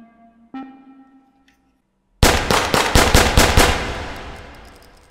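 A futuristic gun fired in a VR shooter: after a couple of soft clicks and a pause, a loud rapid burst of about eight shots rings out, with a lingering tail.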